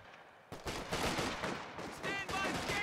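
Gunfire at a fighting position in Company of Heroes 2, with US infantry: dense, continuous volleys of shots crackling close and loud, with faint radio-like chatter and tones poking through.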